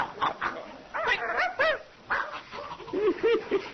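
A dog barks and yips in a string of short, close, fairly loud barks, with small whimpering tones near the end, played as an effect on a radio show.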